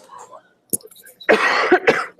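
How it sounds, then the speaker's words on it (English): A brief cough and throat clearing, close to the microphone, with a few muffled vocal sounds after a quiet start. "Sorry if I'm like coughing in your ear."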